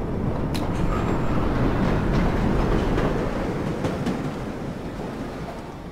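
A subway train in the World of Subways 4 game rolls slowly into a station at rush hour, a steady loud rumble with faint clicks of wheels over rail joints, fading slightly toward the end.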